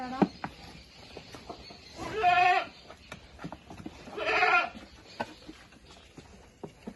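Young goat kids on a Kerala goat farm bleat in two loud, drawn-out calls, with scattered clucks and small farmyard knocks between them.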